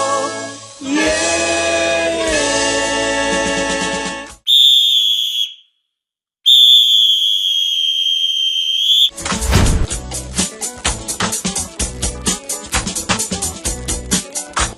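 A referee's final whistle at a Ghana Premier League football match involving Asante Kotoko in Kumasi: two long, shrill, steady blasts with a short gap between them. Crowd chanting comes before them and music follows.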